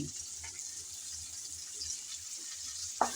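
Torn bay leaves, chopped garlic and chopped onion frying in oil for taro leaf curry give a soft, steady sizzle throughout, ending with a sharp clink of a utensil.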